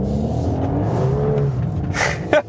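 A Volkswagen Golf R engine pulls hard out of a tight hairpin in drift mode, a sustained rising engine drone heard from inside the car, steady and fairly loud, ending with a brief sharp squeal or scrape.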